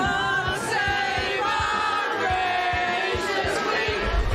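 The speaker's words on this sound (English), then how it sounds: "Huge crowds converging near Buckingham Palace to catch a glimpse of the 96-year-old Queen." Huge crowds gathered near Buckingham Palace for the Queen's Platinum Jubilee, a dense wash of distant voices and cheering with faint scattered thumps, steady and continuous.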